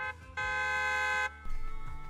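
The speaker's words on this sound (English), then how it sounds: "Beep, beep, and loud honk echoes in the several trunks" A truck horn from a video game blares in two honks, a long sustained tone of about a second followed by a shorter rougher blast, close and loud with no speech.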